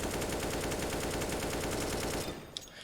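Automatic rifle spray in the game CS:GO, a rapid, evenly spaced burst of gunshots fired nonstop for over two seconds, loud and close, then cutting off into a brief quieter tail.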